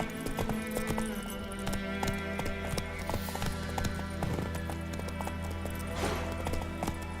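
A horse galloping in the video game The Witcher 3, steady rapid hoofbeats thudding throughout over a dense bed of game music and ambience, with a faint whinny.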